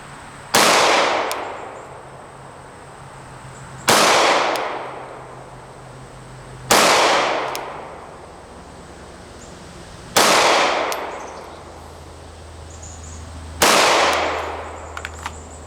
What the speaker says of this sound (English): So we're just going to work a few slow precision shots.